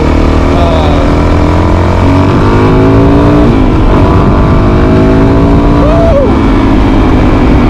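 A Suzuki DRZ400 dual sport motorcycle engine revs hard close by, loud and continuous, with a rising pitch sweep midway and another quick rev near the end.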